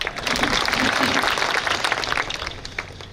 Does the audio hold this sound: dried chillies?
no